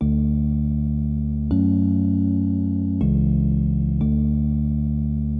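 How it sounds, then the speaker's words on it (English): Sustained electric piano chords from a Massive software synthesizer patch, four held chords changing roughly every second and a half, loud and steady with no other sounds. "So I went into Massive, got one of their E pianos, and made these chords."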